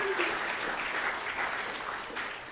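A comedy club audience at a mock trial show bursts into sustained applause, a dense wash of clapping from the crowd throughout the short stretch.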